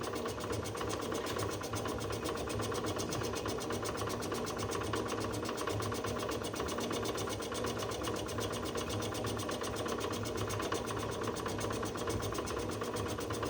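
An old Tobin Arp TA 14 flat-top line boring machine cuts an LS engine block, giving a steady, continuous mechanical hum and whine with a low motor drone that holds even throughout, with no talking.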